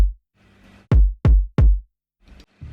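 Three boomy hip-hop kick drum hits with little high end and a deep low thump, struck in quick succession, loud and close, with quieter sounds before and after.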